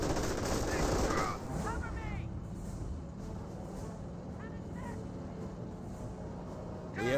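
Machine-gun fire in Company of Heroes, a World War II strategy game, rattles loudly at first, then fades to distant bursts under game voice chatter and announcer lines.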